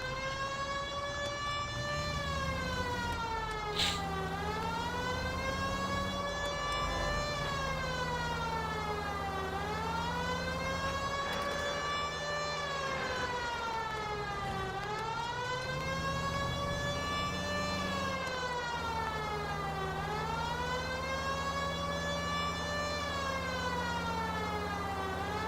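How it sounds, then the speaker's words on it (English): Wailing police siren from a patrol car in L.A. Noire, rising and falling in repeated slow cycles above a low car engine drone, sustained and prominent throughout. "siren means get the fuck out of my way"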